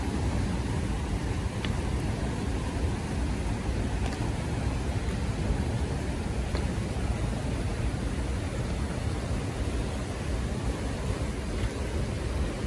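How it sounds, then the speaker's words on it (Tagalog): Rushing water at Whitehorse Rapids in the Yukon, a steady, broad roar that stays unbroken and even throughout, with no voices over it. "Nakirinig yung ingay ng tubig ha."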